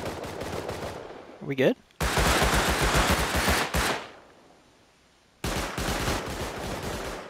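Rapid automatic gunfire from a turret in Rust, loud bursts with a dense dull pounding rhythm, broken by a short pause and a sharp sweeping tone, then resuming after a quieter stretch; a voice speaks briefly.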